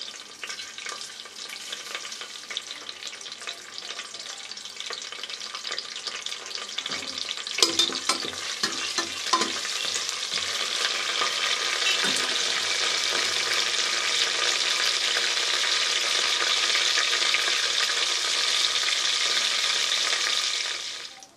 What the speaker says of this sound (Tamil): பட்டை கிராம்பு பொரிஞ்சிச்சு